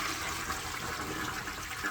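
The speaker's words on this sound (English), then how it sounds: "So we're going to flush it." A toilet flushes with a steady rushing gush of water, close and unbroken for the whole stretch, with no voices over it.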